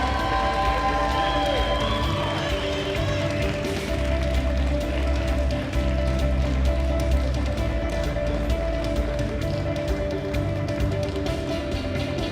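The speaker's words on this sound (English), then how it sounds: "Give them a nice round of applause" A crowd at the World Bench Press Championships 2024 claps and cheers for open classic competitors, a dense, continuous roar with applause beneath a loud arena PA hum.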